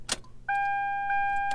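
A Toyota Land Cruiser (Lexus LX470 type) being switched off with the key: a short click, then a steady electronic chime tone that holds for about a second, close by and clear with no talk.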